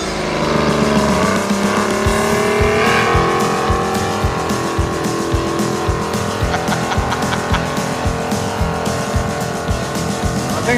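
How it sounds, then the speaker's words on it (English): A pulling tractor strains against a 33,000-pound weighted sled, its engine roaring loud and rising in pitch, then settling into a rapid pulsing beat as it hauls, with no talk over it. "we're going to hook the tractor to the sled and pull the weight that we're going to throw to it"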